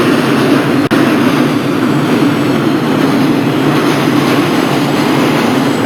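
R160 subway train in the Openbve simulator rolling into a station, a loud continuous rumble and hiss of the cars with a brief click early on, steady and close throughout.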